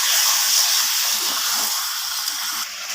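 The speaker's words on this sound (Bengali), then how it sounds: "এরপর আমি চিকেনটাকে মশলার সাথে ভালোভাবে কষিয়ে নেব বেশ খানিকক্ষণ ধরে" Chicken frying with spices in a pan for a curry gives a steady, loud, broadband sizzling hiss that runs unbroken and close, fading slightly near the end.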